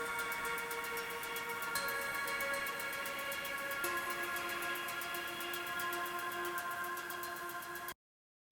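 A high-pitched synth pad layer adds airy texture, a steady shimmering wash of sustained bright tones that holds evenly and then cuts off abruptly near the end.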